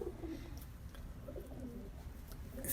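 A pure-bred Golden pigeon coos softly in short low murmurs while being held and shown, faint and close against a hushed background.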